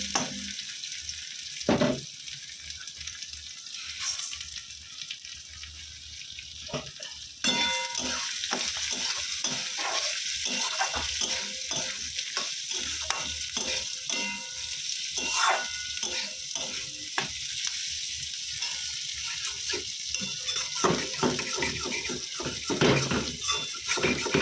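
Mixed lentil dal with chopped ginger cooks in a pot, a close, continuous sizzle with repeated scraping stirs and clinks of metal against the pot, growing busier partway through, with no talking.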